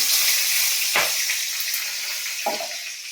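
Panch phoron spices sizzle in hot oil for a Malabar spinach chorchori, a steady close hiss of frying with two brief stirring clatters and no talk.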